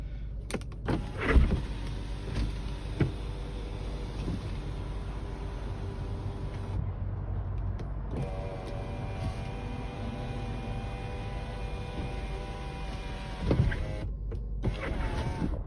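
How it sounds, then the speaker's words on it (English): The electric sunroof motor on a 1998 Toyota Celsior Type B hums steadily as the panel moves, with a faint whir and soft clicks at the start and stop, heard close inside the cabin. "Sunroof."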